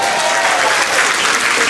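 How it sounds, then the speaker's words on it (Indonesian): Steady, dense applause from an audience at a provincial government launch event for NTT Mart Online in honour of San Jose, loud and continuous throughout with no pauses. "Dan tepuk tangan buat San Jose dulu"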